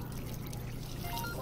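A stream of water pouring steadily in the horror video game Resident Evil 7, a continuous low trickling wash lasting just over a second at a moderate, even level.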